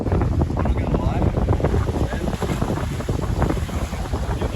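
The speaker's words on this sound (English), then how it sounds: "it is super windy, all the wind sounds" Strong wind buffets the microphone beside a rock pool on the Yorke Peninsula coast, a constant loud roaring rumble that fills the whole clip without a break.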